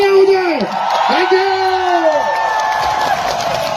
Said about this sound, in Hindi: एक बार शक्ति कपूर जी के लिए जोरदार तालियां हो जाए